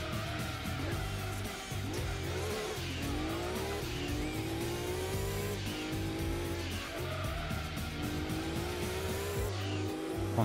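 A Suzuki Escudo races in Gran Turismo 2 with a loud, constant engine drone that keeps rising in pitch through the gears, broken by repeated shifts and occasional tire squeal, without talk.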